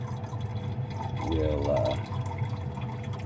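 Electrolyte liquid is poured off silver crystals in a refining container, a short close gurgle and trickle over low background noise.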